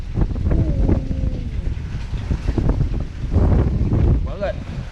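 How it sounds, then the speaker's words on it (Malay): A strong storm wind batters a fishing hut on a kelong at sea, heard from inside as loud, gusty roaring and buffeting that rises and falls in waves. "Sekarang ni ribut gila kuat. Jadi bunyi dalam pondok kan."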